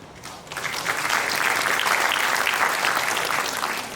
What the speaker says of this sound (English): Please, another round of applause, please.